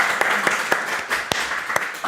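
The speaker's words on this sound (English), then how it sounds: "we are going to give you a big round of applause" Studio audience applause for a Eurovision team, dense clapping with a few sharper claps standing out, moderately loud and with no talking over it.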